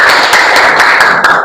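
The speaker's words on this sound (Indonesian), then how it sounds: "Tepuk tangannya mana?" An audience clapping for presenters, a short burst of close, loud, dense applause from a group of hands with no talking over it.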